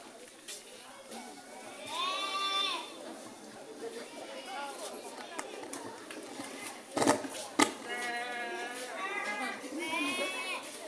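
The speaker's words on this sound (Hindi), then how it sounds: "छोटी छोटी बकरियों को संभाल पाना बहुत कठिन है" Young goats bleat in a few wavering calls over a steady murmur of voices and faint clinking of dishes, the animals sounding moderately distant.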